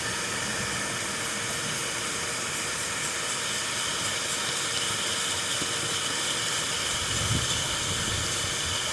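A shop vac blows a steady, hissing stream of air into the exhaust of a 2006 Toyota Corolla with an exhaust leak, a continuous broadband rush at close range with no talk.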